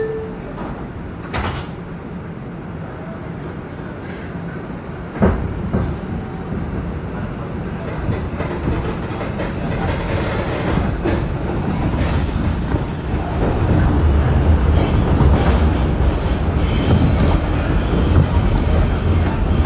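An R142 subway train on the New York IRT 2 line rumbles loudly along the track, its wheels squealing in high, thin tones as the noise builds toward the end.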